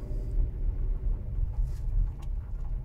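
Car driving, a faint low road rumble and muffled engine hum heard from inside the cabin, steady and quiet with no talk.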